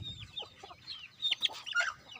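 A chicken clucks at close range in a rural Lao backyard, giving a short run of quick, pecking clucks and a few higher squawks within two seconds.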